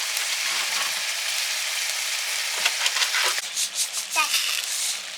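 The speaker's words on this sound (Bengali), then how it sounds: "ওই শুকনো শুকনো করে ভাজা ভাজা করতে হয় এটা খেসারি ডাল" Khesari dal, grass pea lentils, dry-roasting in a pan, with a soft steady sizzle and rustle of stirring, and brief voices and scraping toward the end.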